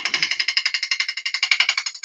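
Bevel tool cutting timber on a woodturning lathe while shaping a four-sided vase: a fast, steady train of sharp rattling knocks, close and loud, repeating about ten times a second without pause.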